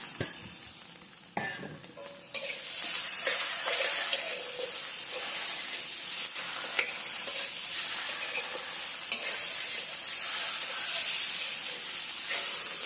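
Bean sprouts and garlic chives are stir-fried briefly in a hot pan. A loud hissing sizzle erupts as they hit the pan and continues steadily, broken by scraping and tossing sounds of stirring, with no voices.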